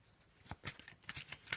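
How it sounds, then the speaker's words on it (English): A Law of Attraction card deck being shuffled by hand in a few quick, soft riffling bursts, close up and fairly quiet. "I'm going to just have a little shuffle of the Law of Attraction deck and put a card down from that"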